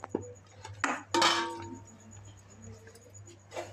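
Metal pots and a lid clink and clatter in a home kitchen during soya pickle making, several sharp knocks and a louder ringing clang close by, with no talk.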